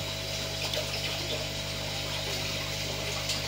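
Water runs steadily into a grindal worm culture, a continuous close pouring and trickling wash with a low hum underneath, no voices.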